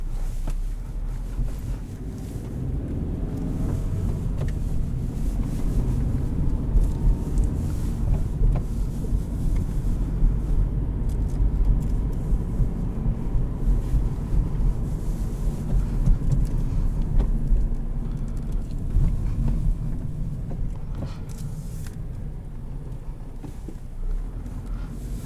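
Interior of a 2018 Honda Civic LX with a manual gearbox while driving, a steady low road and engine rumble with wind noise holding level throughout and no voices.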